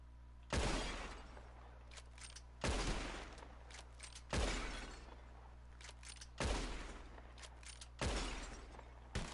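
Gunshots in a shooting contest in Red Dead Redemption 2, five loud sharp blasts evenly spaced about two seconds apart, each with a rolling tail that fades before the next.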